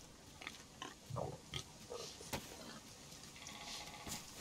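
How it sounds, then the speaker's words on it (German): Pigs in a video game giving faint scattered grunts and oinks, several short snorts spread over a few seconds against a quiet ambient background. "Oh, da ist ein Schwein. Da sind Schweine, Leute."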